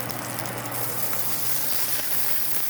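Steady, dense sizzle of vegetables hitting a hot Instant Pot on the sauté setting, sitting in browned fond from pot roast, a constant crackling hiss with no voice.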